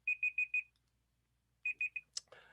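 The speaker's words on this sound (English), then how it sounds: "My timer's done." A timer alarm going off in a series of bright electronic beeps, four quick ones, a pause, then three more, followed by a short clatter as it is stopped.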